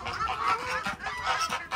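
A goose honks repeatedly in a bird-keeping setting, loud, close, harsh calls in quick succession, with no talking.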